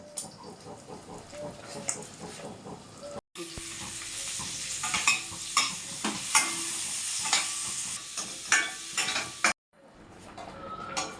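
An egg fries for a poached-egg curry, giving a steady sizzle broken by stirring and clinks of utensil against pan, with a brief gap midway and a faint voice in the background.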